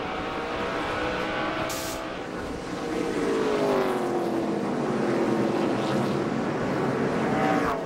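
NASCAR race cars at the Toyota All Star Showdown race around the track, a loud engine roar from the pack with a sweeping pitch shift as cars pass, and a brief crackle early on.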